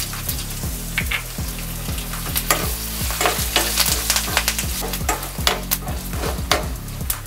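Tempering of dried red chillies, asafoetida and curry leaves frying in hot oil for a tamarind-leaf dal, a loud close crackling sizzle with rapid stirring scrapes and pops, no voices.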